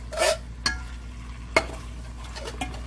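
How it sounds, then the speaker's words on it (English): Beans and tomatoes being stirred into turkey chili in a pot, with a few soft scraping clicks of a spoon against the pot over a quiet low hum. "Kind of stir that in."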